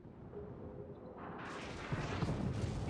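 Heavy naval guns of an enemy warship fire in World of Warships, two deep broadband booms landing about a second apart over a steady rumbling battle bed, loud and fairly close.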